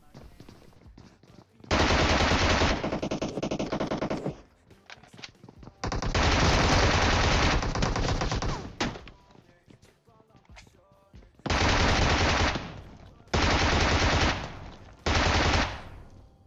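A Bizon submachine gun fires in PUBG Mobile, loud sustained automatic bursts of a few seconds each, separated by short pauses, with a voice talking faintly in between.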